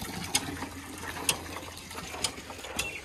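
Water gushes from a newly installed village hand pump with a splashing, trickling wash, while the pump's handle gives sharp metallic clanks at irregular intervals, close and moderately quiet.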